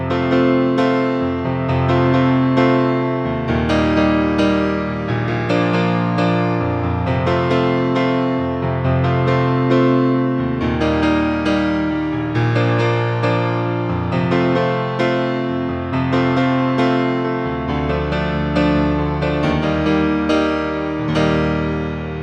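Piano plays the bridge of a song in an acoustic arrangement: full, steady chords and melody at a consistent loud level, continuous throughout with no talking.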